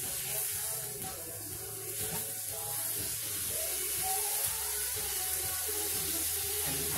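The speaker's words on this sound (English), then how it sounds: "I'm just gonna cook this down. Just brown it." Burrito filling browns in a hot pan with a steady, soft sizzling hiss that carries on evenly throughout, fairly quiet and close.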